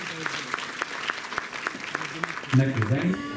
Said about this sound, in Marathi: विद्यार्थ्यांसोबत त्यांच्या पालकांसाठी सुद्धा जोरदार टाळ्या होऊन झालं